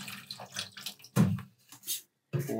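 Running water at a sink rinses purple dye out of wood being dyed for violin purfling, with short splashing bursts separated by brief pauses, close and moderately loud.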